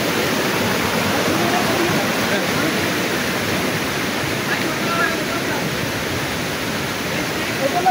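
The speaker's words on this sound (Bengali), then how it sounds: "প্রথম ঝর্ণায় আপনাদের স্বাগত।" Roaring cascade of the first waterfall on the Napittachhara trail in Sitakunda, Chattogram, a loud, steady rushing wash heard up close with no break.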